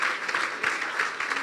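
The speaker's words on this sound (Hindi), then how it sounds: "हम यीशु के जलाल के लिए जोरदार तालियां बजाते हैं" Brief, steady applause from a church congregation, a dense wash of many hands clapping together at moderate loudness without distinct individual claps.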